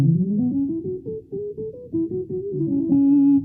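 Guitar played through a BOSS SY300 guitar synth with the filter cutoff lowered to 40, giving a dark, mellow tone with no highs; a run of sustained, gliding notes rings out close and alone.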